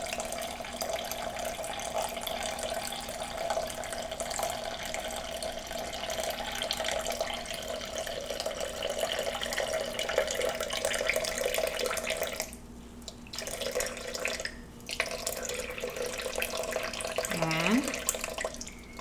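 Warm tap water runs into measuring cups for a sourdough mix, a faint continuous trickle with a steady tone underneath, broken by two short pauses near the end, with occasional voices in the background.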